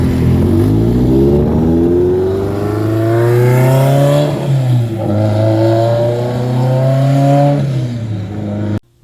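A 1985 Ferrari 308 GTSi Quattrovalvole engine revs loudly and close, its pitch climbing through long sustained pulls, easing and rising again, then cutting off abruptly at the end.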